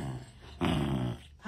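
A dog gives a short, low rumbling growl lasting about half a second, close and clear, with quieter sounds on either side.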